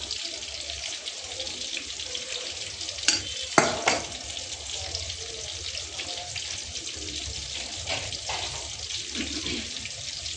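Steady frying sizzle of fish in a covered pan, with a few sharp clinks of a lid or utensil near the start, continuing without talk.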